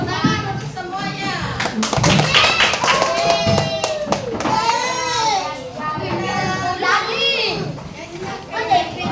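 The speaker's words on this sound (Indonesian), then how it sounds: "Oke, tepuk tangan untuk semuanya." Children in a classroom clapping together in bursts, with lively kids' voices and chatter mixed throughout at close range.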